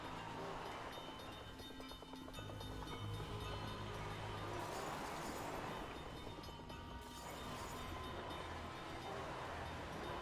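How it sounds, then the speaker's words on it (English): Train rolling along in a creepy video game, a steady low rumble with rhythmic clattering and a whooshing wind-like wash, continuous and fairly quiet, swelling slightly midway. "Okay, train moves a little faster."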